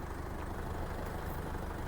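A 2006 Isuzu D-Max Hi-lander pickup with a 2.5-litre diesel engine idles with a steady, even low rumble, close by and unbroken.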